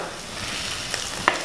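Chili powder and coriander powder sautéing in a pan for a coconut fish curry, giving a continuous close sizzle with a couple of light stirring taps near the end.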